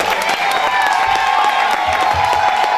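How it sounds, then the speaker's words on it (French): Steady crowd applause with cheering mixed in at a wedding ceremony, dense clapping throughout at a moderate distance. "Veuillez applaudir s'il vous plaît."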